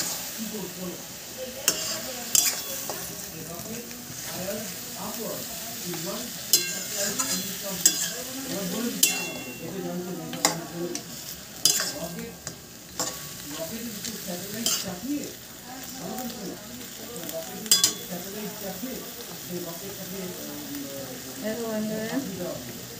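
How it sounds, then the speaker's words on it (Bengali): Desi chicken being stir-fried for kosha in a pan, a steady sizzle with repeated scraping and stirring strokes and occasional clinks of the spatula, with faint talk in the background. "এবার একটু একটা ভাজা ভাজা করে নেবো, কষিয়ে নেবো।"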